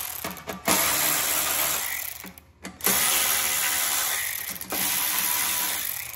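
Bolts on the muffler guard of an Ariens Deluxe 24 snow thrower are loosened with a ratchet, giving close, dense clicking in bursts separated by brief pauses.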